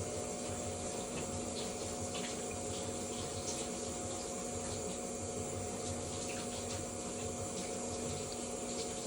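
Shower water runs in a steady, even hiss, constant and moderately faint from start to finish, with a faint low hum beneath and no voices.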